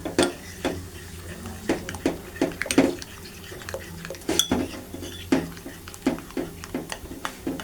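A spoon works cornflour into food in a metal pan, producing repeated scraping clinks and knocks at an uneven stirring rhythm, close and moderately loud.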